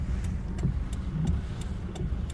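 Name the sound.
car or truck passing by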